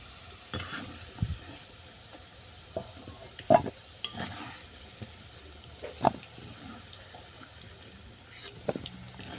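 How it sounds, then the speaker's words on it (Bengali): Potatoes frying in oil until brown, heard as a faint continuous sizzle with occasional close knocks and scrapes of a spatula turning them, sparse and uneven, without voices. "বাদামি করে ভেজে নিচ্ছি আলুগুলো নেড়ে করে বাদামি করে ভাজা হয়ে গেছে"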